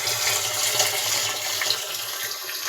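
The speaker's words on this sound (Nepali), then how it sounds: "यहाँ पानी भर्दैछु है" Water running from a tap into a container in a garden, a loud, steady, close gush that continues unbroken throughout, with no voices.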